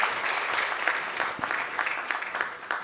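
An audience at a learning and development summit and awards event applauds to welcome a speaker, brisk continuous clapping that stays fairly full and even for the whole short stretch.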